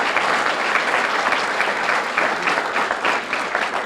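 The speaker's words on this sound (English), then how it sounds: "Let's have a round of applause for that" At an award ceremony in Boulder, an audience gives a round of applause, producing a steady, full crowd of clapping that stays loud throughout.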